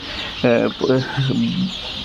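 Fayoumi chickens on a poultry farm give a few close, distinct clucks in a short burst over a steady background hum of the shed.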